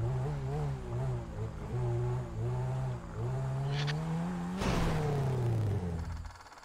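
In a roleplay driving video game, a car engine revs in a rhythmic series of rising and falling pulses, then swells into one louder, sustained rev before cutting off; no talking is heard.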